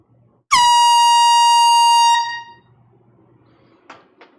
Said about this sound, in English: we have to bring out the boat horn, the air horn, and do a congratulations